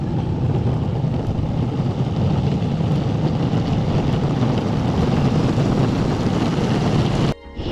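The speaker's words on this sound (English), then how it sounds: "All you really hear is road noise from the wheels." A VeyMax Cejour budget electric skateboard with hub motors rolls along a road, its wheels giving a steady, loud, unbroken rumble throughout. The noise dips abruptly near the end.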